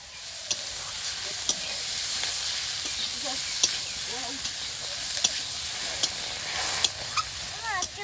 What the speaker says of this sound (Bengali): আলুটা ভাজা হয়েছে